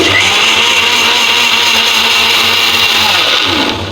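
A mixer grinder whirs steadily at full speed, blending hibiscus leaves with water in a loud, close, continuous drone for several seconds before it starts to wind down.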